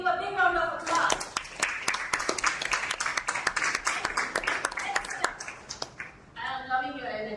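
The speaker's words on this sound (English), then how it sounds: "Ladies and gentlemen, give a big round of applause" A crowd at an entrepreneurship and start-up panel discussion claps in a lively burst, the applause filling the middle before fading, with a voice speaking over the start and end.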